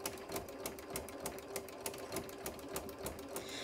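A Janome sewing machine with a ruffler attachment stitching fabric, a fast, even mechanical chatter of regular needle strokes with a steady motor hum, close and alone.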